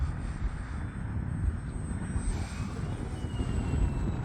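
An E-flite UMX Turbo Timber Evolution RC plane flies on a windy day, its small motor making a faint, distant whine that holds steady over wind noise for a few seconds. No voices are heard.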